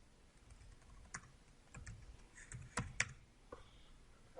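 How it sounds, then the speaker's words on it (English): Quiet clicks of a computer keyboard as a short command is typed, a few scattered keystrokes and a couple of sharper taps, close and faint with no voice. "and type in ls-l again"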